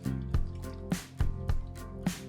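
Melted ghee glugs and splashes into a kadhai for sweet zarda rice. The pour comes in close, uneven wet drips and plops over a couple of seconds.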